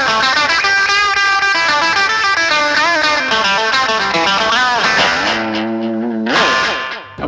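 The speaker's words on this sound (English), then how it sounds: "your main sort of solo tone is delay, reverb, treble boost." Electric guitar solo tone through delay, reverb and treble boost: a loud, bright, distorted lead line with bending notes and echoing repeats, ringing out alone and fading at the end.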